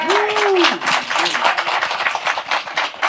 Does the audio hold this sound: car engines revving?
no